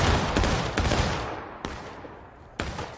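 Rifle volleys crack out in War of Rights, a Civil War battle game: several loud ragged bursts of massed musket fire at uneven intervals, each followed by a rolling echo.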